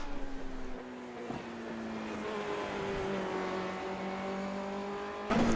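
Formula Renault 2.0 race car engine at Suzuka, revving high through the gears on a qualifying lap with rising and falling tones, a sharp shift near the start and a louder surge at the end.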